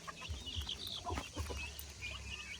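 Chickens cluck in short, scattered bursts nearby, with a few higher chirps mixed in over faint farmyard background noise.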